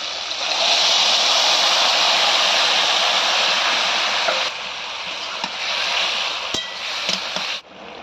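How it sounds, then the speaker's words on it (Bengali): Bottle gourd poured into a pan of frying shrimp sets off a loud, dense sizzle that holds steady for several seconds, then eases to a lower crackle with a few utensil clinks. "এবারে লাউটা ঢেলে দেবো এতে।"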